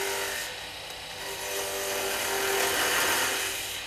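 A wood lathe spins steadily while a turning tool's handle is rolled around at the end of a cut, producing a continuous close whirring, scraping hum with faint tonal whine and no talking.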